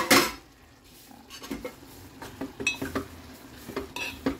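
Spices tempering in a pan for a buttermilk stew: close spoon clinks and stirring scrapes over a light, intermittent sizzle, with no talk.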